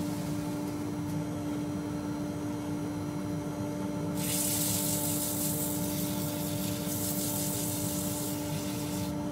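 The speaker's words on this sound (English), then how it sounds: "A little bit of sanding to go on here." A wood-turned Christmas tree bird box is sanded on a running lathe, giving a soft steady rubbing hiss over the constant motor hum, growing brighter and louder about halfway through.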